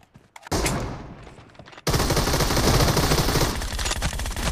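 Loud automatic gunfire in the mobile video game PUBG Mobile during a squad match, with a brief burst followed by sustained rapid shooting that fills the rest of the clip.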